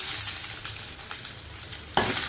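Chopped onions fry in a pan with a continuous close hiss and crackle, plus a soft stirring scrape near the end and no voices.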